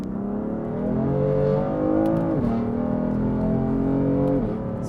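A BMW F80 M3 with a first-generation dual-clutch transmission accelerating from inside the cabin, a steady engine drone rising in pitch, dropping briefly at an upshift, then climbing again, loud and close, with no talking.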